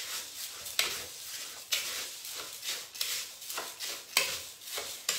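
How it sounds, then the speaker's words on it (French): Salt and spices stirred together in a bowl for a salt-crust côte de boeuf, a steady gritty scraping with sharp rhythmic strokes about once a second, close and alone. "on va mélanger le sel et les épices"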